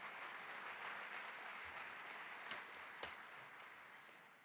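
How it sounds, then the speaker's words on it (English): Audience applause for the servers at a charity luncheon, a steady wash of many hands clapping at moderate distance, filling the room evenly with a couple of sharper claps standing out near the end. "Just a big round of applause for the servers and everybody here that's going to bring our food tonight"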